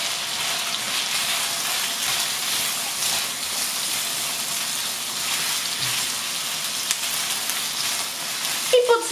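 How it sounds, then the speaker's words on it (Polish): Onions fry in a pan with a steady, close crackling sizzle that runs throughout, and a few faint clinks of a utensil come near the end. "I podsmażamy do zarumienienia cebulki."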